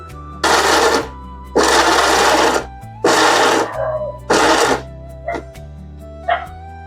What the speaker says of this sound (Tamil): நம்ம இப்போ வந்து மிக்ஸியில் வந்து நம்ம பல்ஸ் மோடில் வச்சு நல்லா எடுத்தாச்சு